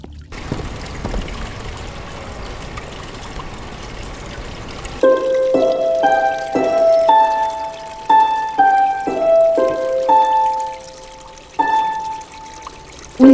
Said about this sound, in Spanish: Presentamos el arpa de agua.